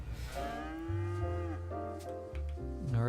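Several cattle moo in overlapping, drawn-out calls within the Cities: Skylines farm simulation, the lowing loud and close and continuing throughout with no talking.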